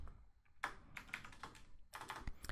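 Typing on a computer keyboard, a short series of quiet, close key clicks in two quick bursts with a brief pause between them.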